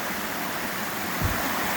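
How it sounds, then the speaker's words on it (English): Water from Dunn's Falls in Maine fans out and pours over rocks in a steady broadband rush, with a brief heavier splash partway through; no voices. "The water just fans out, comes down over these rocks, and keeps going."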